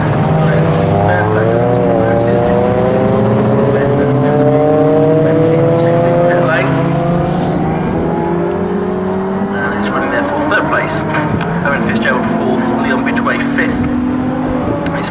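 750MC enduro race cars, among them BMWs, roar past at Snetterton, their engine notes sweeping and shifting pitch as they pass close and loud, with a commentator talking over them.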